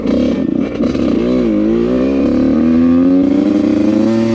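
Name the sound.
Yamaha YZ85 dirt bike revving and riding off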